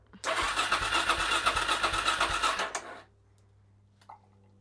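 A Suzuki DRZ400SM motorcycle engine, unused for three months after being taken apart, cranks in a loud, rhythmic, pulsing churn for nearly three seconds. It then cuts off, leaving near silence broken by one faint click.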